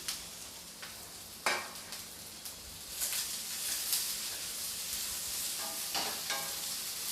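Chopped vegetables are tipped into a hot pan with onion and sizzle loudly. Clattering stirs and scrapes come through at intervals over a steady frying hiss, with no talk.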